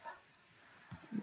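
A Sims 3 dog's voice: a short, high cartoonish yelp, then a couple of quick low grunting barks, fairly quiet, with no talking.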